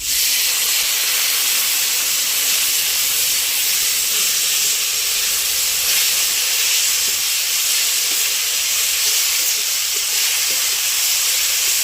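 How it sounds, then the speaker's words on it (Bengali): Small fish sizzle and hiss steadily in a hot pan after water is added, a loud, continuous steamy crackle lasting throughout with no pauses. "দেখো একটু জল দিয়ে দেবো"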